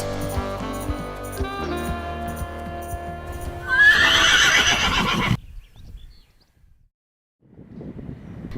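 A newborn foal, bred by artificial insemination, gives a loud, close whinny alongside clip-clop hoof sounds, then falls quiet before faint rustling returns.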